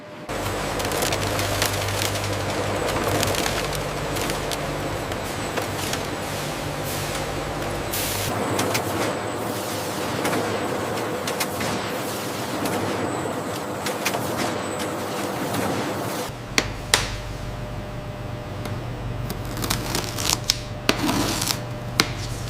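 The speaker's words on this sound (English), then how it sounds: "circular blades demonstrate remarkable precision, slitting the wide banana fiber sheets into standardized, narrower widths" A circular-blade slitting machine cuts wide banana fiber sheets into narrower strips, a steady loud mechanical whir and rumble running throughout with a shift in tone partway and a few sharp clicks near the end.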